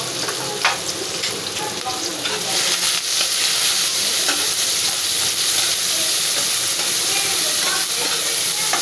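Onions fried in a pan and stirred, a steady close sizzle running throughout with scraping stir strokes over the top; no talking.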